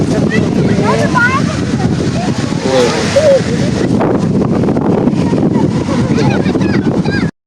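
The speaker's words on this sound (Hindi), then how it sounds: "बहुत ज़्यादा ठंडी हवा चल रही थी" Strong cold wind blows outdoors at a busy dam-side barbecue spot in winter, a steady loud rush under continuous talk and crowd chatter from many families.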